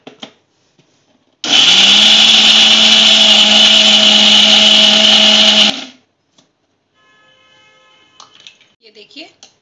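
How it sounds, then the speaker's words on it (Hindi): A mixer grinder whirs loudly and steadily for about four seconds grinding peanut chutney with yogurt, then cuts off, leaving faint clinks and rattles afterward. "और हम इसे अब मिक्सी में पीस लेंगे।"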